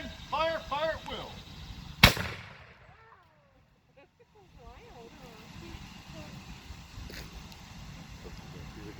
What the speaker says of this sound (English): Aim, fire, fire at will.